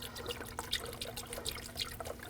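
Coolant in a 50-50 mix poured through a funnel into the reservoir of a 2006-2009 Audi S4, a soft close trickle and gurgle with small drips, continuous and quiet.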